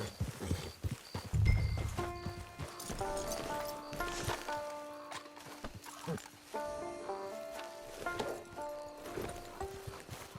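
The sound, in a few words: horse hooves galloping in video game Red Dead Redemption 2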